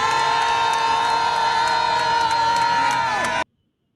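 A large Nigerian crowd claps and cheers loudly and steadily, a dense wall of applause and voices that cuts off abruptly near the end.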